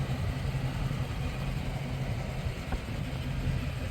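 Inside a 2021 Dodge Charger Scat Pack Widebody on the move, the engine gives a steady low rumble mixed with road noise at moderate level, without surges and with no voices.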